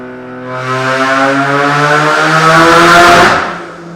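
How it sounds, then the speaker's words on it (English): A straight-piped, big-turbo Mazda RX-7 rotary engine revs up and holds a loud, rising wail with strong tonal harmonics for about three seconds, then drops back, heard close and alone. "You hear that turbo?"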